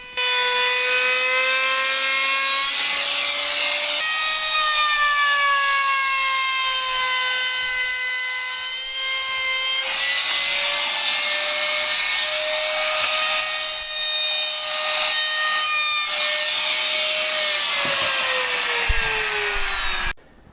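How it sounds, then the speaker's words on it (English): A cheap palm router rounds over the edges of 18mm MDF in a workshop, a steady high whine with a loud cutting rasp that keeps on for the length of the cut, pitch dipping slightly near the end before stopping. "I'm going to do this using my handy cheap little palm router"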